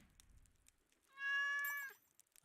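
A cat in the Stardew Valley farming game gives a single drawn-out meow, loud and clear, standing alone against faint background game sounds.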